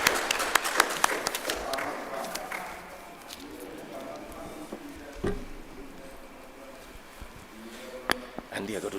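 Scattered applause from a round-table audience for Dr. Fletcher, strongest at first and then thinning out into sparse claps under a murmur of voices and room noise.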